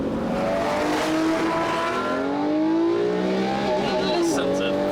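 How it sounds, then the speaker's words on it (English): A car's engine rises and falls in pitch as the throttle is blipped, a loud, close rev that climbs, dips and surges again, with someone talking over it. "Just for that noise when you blip the throttle."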